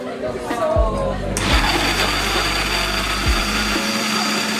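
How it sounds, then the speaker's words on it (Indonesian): Electric blender churning herbal jamu ingredients for a traditional Indonesian remedy, a steady loud motor whir that starts abruptly and holds with brief dips, alongside mixed kitchen clatter. "Kita blender ya."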